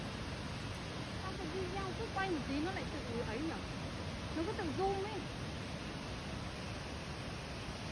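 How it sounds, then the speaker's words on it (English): Ban Gioc waterfall on the Vietnam-China border in Cao Bang pours in a steady, broad roar of falling water, with faint voices drifting through in the middle. "Gioc Waterfall is one of the famous waterfalls not only in our country but also known to international friends."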